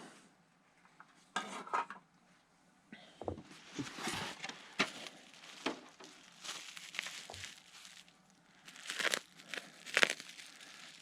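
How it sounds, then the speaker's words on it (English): A model airplane kit, a Carf Hybrid 330sc Extra, is cut open and its packaging unwrapped, giving faint, close crinkles, snips and light clatters that come in irregular bursts with quiet gaps between them. "Bear with me while we cut things open here."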